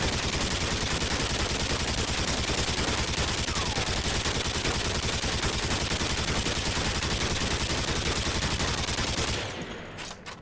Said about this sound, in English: Of course, the most famous light machine gun inside Call of Duty is the RPD.